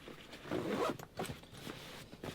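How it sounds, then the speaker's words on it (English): A Starlink equipment bag is zipped closed in one continuous rasping pull, close up, followed by a couple of brief shorter zip tugs and handling sounds. "And then this zips up like"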